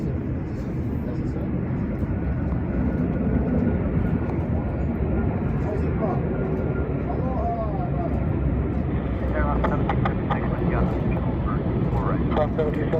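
A heavy jet airliner lands on runway 24 right at LAX, its steady broad engine roar filling the scene from start to end, with airport radio talk mixed in.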